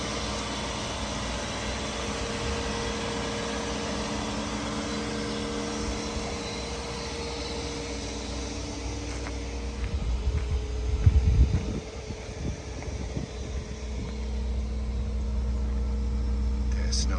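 A 1999 Bentley Arnage engine idles smoothly and steadily with a low, even hum, and a brief louder burst comes partway through. No one speaks.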